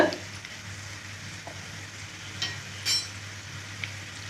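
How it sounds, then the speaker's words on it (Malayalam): Masala of chili powder, Kashmiri chili, turmeric and pepper sautés in hot oil for a fish pickle, giving a soft, even sizzle close by with a few faint stirring scrapes and no voices. "ഇത്രയും ചേർത്തങ്ങ് നന്നായിട്ട് വഴറ്റാം"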